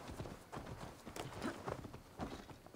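Faint clip-clopping of horse hooves in the video game Assassin's Creed Valhalla, in an uneven rhythm, quiet and somewhat muffled.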